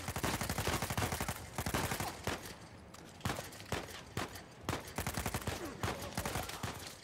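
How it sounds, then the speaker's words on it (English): Gunfire in Uncharted 4, dense bursts of rapid shots with a few pauses between volleys, sharp cracks and some single reports, fairly loud and sustained across the stretch. "Oh crap, who's shooting at me?"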